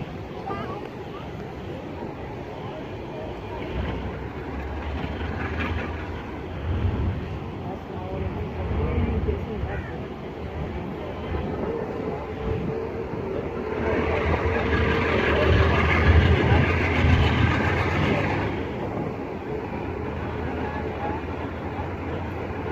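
The Pak Business Express train pulls into Drig Road railway station with a broad, rumbling roar. The rumble swells louder for several seconds as the train passes close by, while people talk over it.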